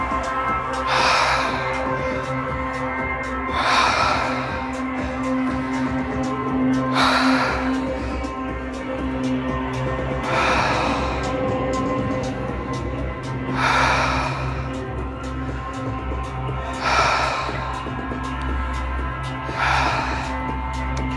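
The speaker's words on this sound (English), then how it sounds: "Breathing in and out through your mouth." Deep breaths drawn in and out through a wide-open mouth during a live gong bath session come in a slow, regular rhythm of about six loud, close breaths over a sustained resonant gong drone.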